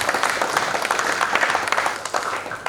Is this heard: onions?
no